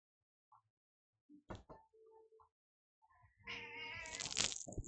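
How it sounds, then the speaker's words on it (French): A cat gives a few soft, scattered sounds, then a long, rising, drawn-out meow close by in a quiet room. "le chat il miaule"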